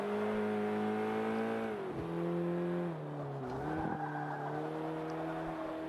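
A turbocharged Renault Megane in the racing game Forza Motorsport 5 revs its engine and exhaust. The engine note rises and falls across several gear changes, with some tire squeal.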